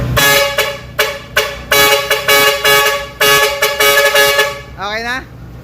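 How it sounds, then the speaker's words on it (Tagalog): Truck air horn on a multi-channel horn module blasts repeatedly during a sound check, several loud, sustained tonal honks in broken bursts, ending with a short warbling horn sweep. "Kay Jeffoy naman, fire air horn naman to, yung kay Jeffoy."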